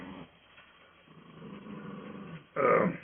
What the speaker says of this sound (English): She's growling at that puppy.